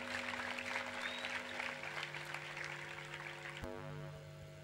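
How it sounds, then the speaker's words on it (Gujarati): An audience at a Swaminarayan centenary festival applauds in a dense, steady patter of clapping that fades gradually, over a sustained musical drone. "ખૂબ તાલીઓથી બધું આપણે વધાવી લઈએ."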